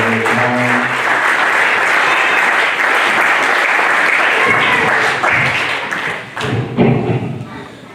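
A church congregation applauds and cheers loudly for several seconds in a dense, continuous wash of clapping that thins out toward the end as voices come through.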